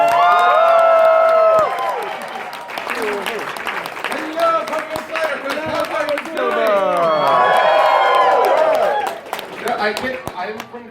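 A convention audience at a Ponyville Ciderfest guest panel claps and cheers steadily for the moderator, with loud whoops and shouts over sustained applause that tapers near the end.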